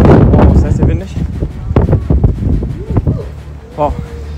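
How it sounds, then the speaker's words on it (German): Strong wind buffets and rumbles against the microphone at the DMZ on the North Korea–South Korea border, loud and gusty, while a person talks over it. "Wow, ist das sehr windig."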